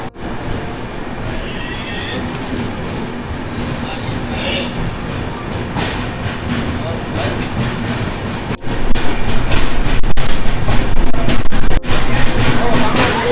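Mysore to Jaipur Superfast Express train rolling on rails, heard from inside a sleeper coach: a loud, steady rumble with rhythmic clickety-clack that swells louder partway through, with sharp joint clacks and no talking.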